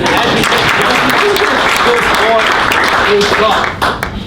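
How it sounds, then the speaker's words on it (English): A conference audience breaks into a sustained round of applause after an ad is shown, dense and loud throughout with a few cheers and voices mixed in, easing off near the end. "That's worth a round of applause"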